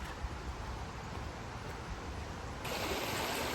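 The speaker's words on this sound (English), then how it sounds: "The little river here that cuts its way through the land, through Overton, down to the sea, here is in full effect." A small river runs through the land at Overton down to the sea in Penzance, a steady, full rushing of water heard close and alone, growing slightly brighter near the end.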